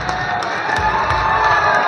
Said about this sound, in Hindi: एक बार भाई खड़ी होके तालियां बजा, सारे खड़े होके सारे